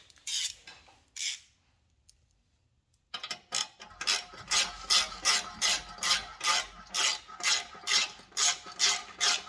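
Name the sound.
tightening motorcycle exhaust bolt with 8mm Allen key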